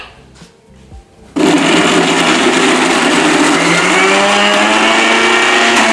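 A blender switches on abruptly and runs loudly and steadily, whirring through homemade chicken soup for dogs made with chicken stock. Before that come a few quiet kitchen clatters.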